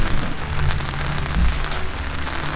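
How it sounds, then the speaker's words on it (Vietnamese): Rain falls steadily as a dense patter on a surface around a Captain Stag M-6500 barbecue grill and fire pit, fairly close and continuous with a few heavier thuds. "có mưa"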